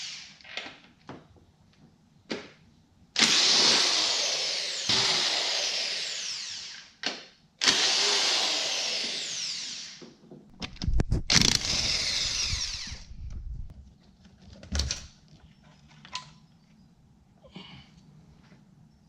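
Ratchet and hand tools working on a car engine, removing two valve covers and coil pack brackets during a home cam install; bursts of clicking and mechanical clatter come in short runs with pauses, fairly close.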